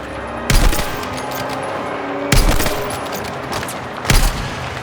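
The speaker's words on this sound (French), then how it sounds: "Dagon 3, on subit un tir nourri." Heavy gunfire in the Battlefield 6 video game campaign comes as three sharp, loud bursts roughly two seconds apart, over a steady background of battlefield rumble.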